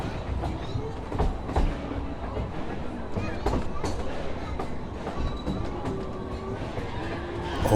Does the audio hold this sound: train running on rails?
yes